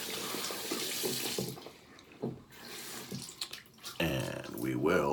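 Tap water runs and splashes into a sink as a face is wet down before a shave, the flow rising and falling with hand movements and a louder gush near the end.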